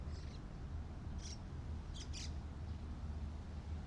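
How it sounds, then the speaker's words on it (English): Outdoors, a bird gives a few brief, faint chirps spaced a second or so apart over a steady low rumble of background noise. "What kind of bird is that?"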